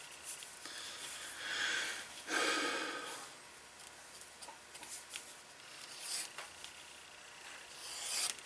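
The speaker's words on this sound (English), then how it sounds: "So there we go, we're all sanded" Sanding the edge of a leather two-pocket card wallet, working down from the top of the pocket: soft, raspy strokes rise and fall in several bursts, quiet and close, with no talking.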